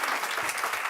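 Audience clapping at a school board meeting, a dense steady patter of many hands filling the room for under a second, with no voices over it.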